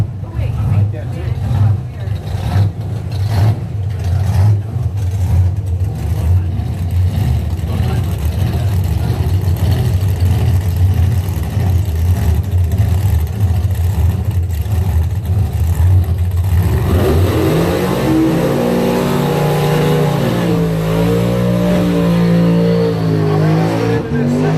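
Top doorslammer drag racing cars at the Blue Oval Battle qualifying, engines firing up and revving loudly and steadily, a deep sustained roar that shifts into higher wavering revs near the end, with an announcer talking over it.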